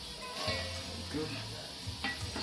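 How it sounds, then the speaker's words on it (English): Onions fry in a pan for sukuma wiki, cooked alongside ugali and marinated wet-fry fish; a soft steady sizzle with scraping stir strokes and a few clinks of utensil against the pan. "I'm gonna start cooking frying the onions for the sukuma wiki."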